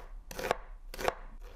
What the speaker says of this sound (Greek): ψιλοκόβω ένα κρεμμύδι